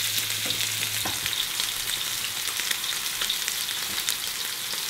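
Beef fillet sears in a hot frying pan with a steady, close crackling sizzle and scattered pops throughout, with no talk over it.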